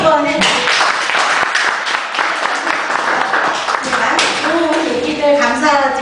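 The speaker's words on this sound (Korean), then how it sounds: "우리 박수 한번 해주세요." An audience at a Korean Evangelical Theological Society forum applauds, a dense, sustained burst of clapping from many hands, close and loud, with faint voices mixed in.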